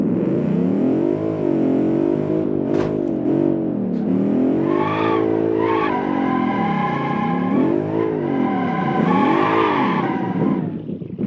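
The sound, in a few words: car doing all-wheel drive drifts in the video game BeamNG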